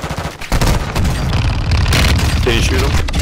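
Gunfire in a first-person shooter video game comes as loud, dense bursts of automatic fire mixed with heavy booms, sustained through most of the moment, with a voice speaking briefly over it.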